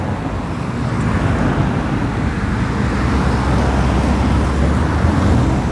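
Busy city street traffic rumbles on steadily, a dense low roar of cars and other road vehicles with no single pass standing out, continuous and fairly loud.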